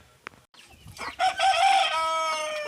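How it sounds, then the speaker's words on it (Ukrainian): After a brief quiet start, a rooster crows loudly and close in a farmyard, with clucking chickens and ducks around it. "Качечки, курочки."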